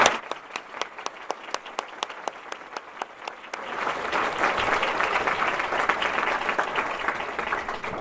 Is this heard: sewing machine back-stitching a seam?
no